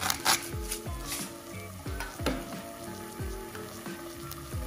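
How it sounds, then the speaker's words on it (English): Onions and garlic sautéing in hot coconut oil in a pan, a soft steady sizzle broken by repeated scraping stirs of a utensil against the pan, close and fairly quiet. "we basically saute these until we get some color"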